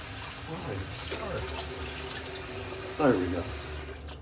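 Running water from a tap rinses Seaforth Roman Spice soap away, a steady faint splashing flow with a brief louder gush, and a voice speaks briefly over it.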